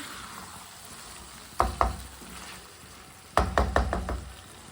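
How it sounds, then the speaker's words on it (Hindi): Chicken cooks in a pan under a faint sizzle while a spoon stirs and knocks against the metal in two close clusters of sharp taps, the second longer and quicker. "अच्छी तरह मिक्स कर लेंगे। तीन मिनट के लिए मैंने पका लिया है।"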